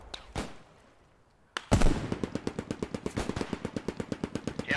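Rapid, steady machine gun fire from a World War 2 squad shooter, a long burst of evenly spaced loud shots following a few isolated single shots and a brief lull.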